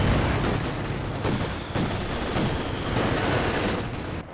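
Machine gun fire in Company of Heroes 2, sustained rattling bursts with sharp reports layered over a dense, continuous battle din, loud and unbroken throughout.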